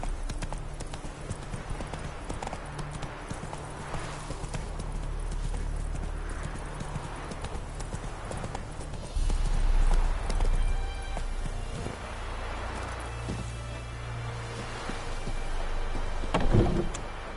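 Roach, a horse in The Witcher 3, gallops in a fast, steady clip-clop of hooves, close and continuous, with a brief rise in rumble partway through and a faint voice.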